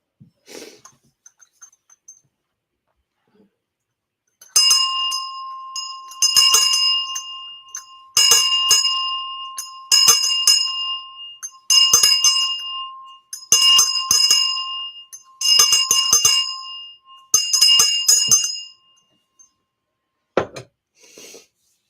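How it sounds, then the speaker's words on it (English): A small bell rings in repeated bursts of rapid shaking, about eight separate clusters of bright metallic jingling with short pauses between, loud and close with no talking. "let's ring the bell for the kids"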